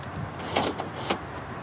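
A car unlocking, a few faint short mechanical clunks and whirs close by in a quiet setting.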